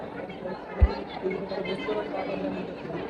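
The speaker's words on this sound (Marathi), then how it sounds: "इकडे गर्दी बघून घ्या." Many voices blend into a continuous babble at a crowded temple in Shegaon, with a brief low thump early on and the murmur holding steady throughout.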